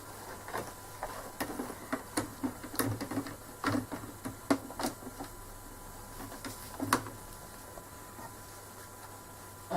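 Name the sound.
embroidery machine stitching thread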